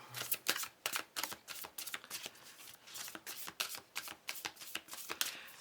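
Tarot cards being shuffled close up, a steady run of quick riffling bursts with no talking.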